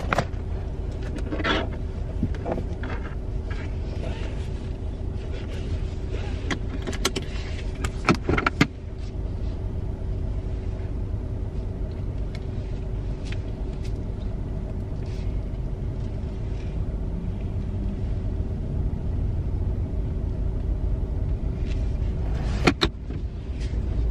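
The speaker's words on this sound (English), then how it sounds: "I want you guys to hear what this car does." Interior rumble of a car engine running while driving, steady and low, with occasional clicks and thumps from inside the cabin and no talking.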